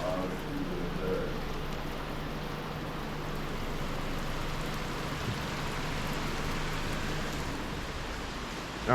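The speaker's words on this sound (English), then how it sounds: "Rain on the spur tree." A constant, even wash of rain falls at Spur Tree, Jamaica, during a road trip, a close and uniform hiss with no breaks throughout.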